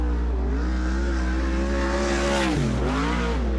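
A sprint car engine screams through a time-trial lap at Sunset Speedway during a Western Sprint Tour race, loud and close, holding a high whine that dips briefly partway through before climbing again.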